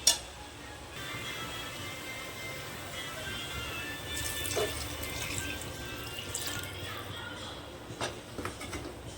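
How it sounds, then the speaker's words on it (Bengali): Water runs from a tap into a pot of partly boiled mixed vegetables, a soft, steady pour close by, with faint clinks and background noise around it. "এটার মধ্যে আমি আবার দেবো জল, পরিমাণ মতো জল দেবো।"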